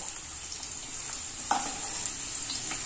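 Cashews and raisins fry in a pan for Onam Sadya parippu payasam, giving a faint steady sizzle with a few soft stirring scrapes and small pops, without talk.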